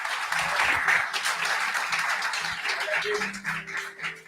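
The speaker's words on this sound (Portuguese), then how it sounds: "dê um aplauso a Jesus" Church congregation applauding during a Sunday morning service, a broad wash of clapping from many hands that swells early and gradually thins, with faint voices murmuring underneath.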